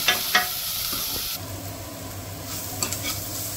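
Chopped onions fry in a pan for Goan catfish curry, a steady close sizzle and hiss with a couple of soft stirring knocks and clinks, no voice heard.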